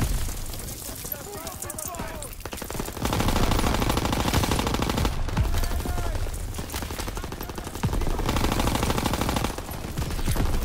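Rapid machine-gun fire and heavy bursts erupt in a Call of Duty WW2 battle, loud and continuous, swelling in intensity in two surges, with shouted voices and booms mixed under the rattle.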